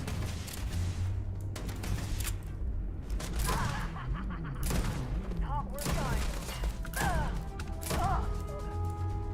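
Heavy gunfire from a powerful weapon in the space game Starfield, several loud booming shots spread through the stretch amid dense game effects and background music, with voices talking over it.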